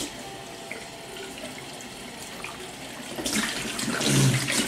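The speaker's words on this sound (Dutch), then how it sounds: "En eerst even fles water even vullen." Water from a kitchen tap fills a bottle, a steady running rush that grows louder and more splashy in the last couple of seconds.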